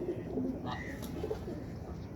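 Pigeons coo softly nearby, with a low throaty coo and a few faint calls over a steady background murmur.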